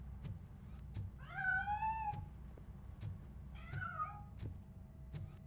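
A cat in the video game Robocop: Rogue City meows twice from inside a piano, two drawn-out rising-falling cries over a low ambient hum with faint clicks.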